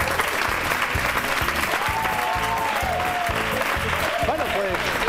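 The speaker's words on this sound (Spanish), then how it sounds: "Fuerte el aplauso para Izan" A studio audience on a magazine show applauds after a magic trick, loud sustained clapping with background music and a voice running underneath.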